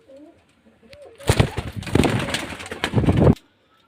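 A pigeon at a sale loft giving its standing call, a few soft cooing notes at first, then a louder burst of rustling, flapping and cooing up close for about two seconds.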